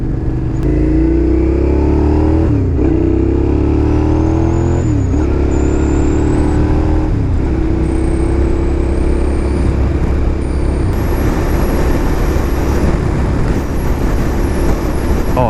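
A Suzuki SV650S motorcycle being ridden, its engine droning loud and close through repeated rising gear pulls, buried under strong buffeting wind noise.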